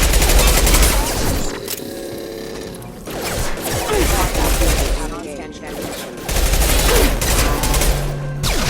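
Mass Effect 2 combat with hostile mechs at a colony, loud sustained automatic gunfire in dense bursts with brief lulls, sharp metallic impacts, and speech mixed in between volleys.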